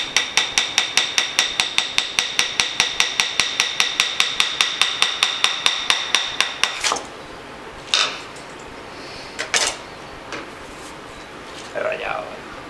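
A hammer strikes a chisel into a block of ice in Japanese-style carving, delivering a fast, even run of about thirty sharp metallic taps before stopping, followed by scattered scraping and knocks.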